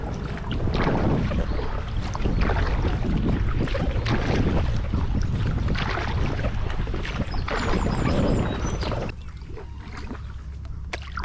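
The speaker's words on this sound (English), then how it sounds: "it's a nice bow wave as well, which I've already filmed" A Sandbanks Optimal kayak's bow wave rushes steadily through the water, close to the microphone, with a continuous wash and wind buffeting, easing slightly near the end.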